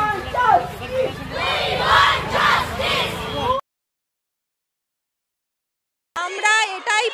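At a night street protest by women in Gobardanga, a crowd shouts slogans in unison, loud rhythmic chanting that cuts to silence for a few seconds before more chanting resumes.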